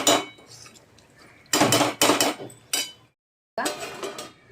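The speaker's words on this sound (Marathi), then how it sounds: "1 मिनिट भराने आपण झाकण काढलं." A metal lid comes off a pot of mixed vegetable curry, with sharp clanks and scraping clinks of cookware in several bursts, close and fairly loud, with one brief silent gap.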